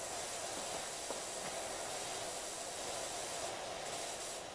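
A pressure washer with a 40-degree nozzle sprays in the Powerwashing Simulator video game, producing a steady, loud, continuous hiss that carries through the whole stretch without pause.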